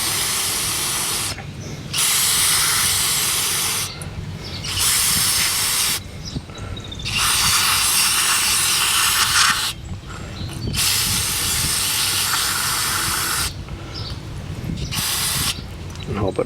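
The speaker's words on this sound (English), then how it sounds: "Just going to hit it with a brake cleaner." Brake cleaner sprayed in long bursts onto an oil-saturated air filter from a Craftsman Professional 21-inch lawn mower, a loud close hiss repeating about five times with short pauses between.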